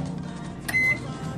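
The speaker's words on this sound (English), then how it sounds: "I'm gonna add this into microwave. I'm gonna put it on for about 4 or 5 minutes." A kitchen microwave oven hums steadily while heating food to soften it, with one short bright beep partway through.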